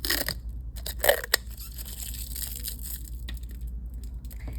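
Protective film being peeled off a metal nail art stamping plate, close crinkly crackling and tearing with a couple of sharper crunches near the start, then quieter rustling.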